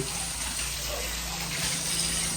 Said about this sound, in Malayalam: ഇതാണ് പ്രവാസിയായതിൻ്റെ ഗുണമാണ് പാത്രമൊക്കെ കഴുകുന്നത്.